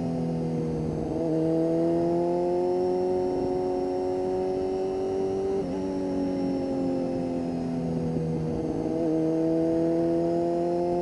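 A 1992 Honda CB motorcycle accelerates through gears in traffic, its engine whine climbing in pitch, dropping at each shift and climbing again, steady and close over wind noise.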